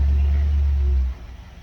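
A 1973 318 V8 on a run stand gives a loud, close, deep low rumble that holds steady, then drops off abruptly about two-thirds through, leaving a quieter uneven tail.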